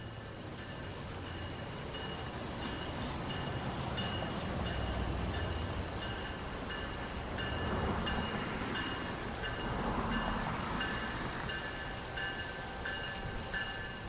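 An Amtrak train of nine cars, hauled by an ACS-64 electric locomotive, stands at Trenton Transit Center, giving a steady broad rumble and hum with faint high tonal whines, heard continuously from close by.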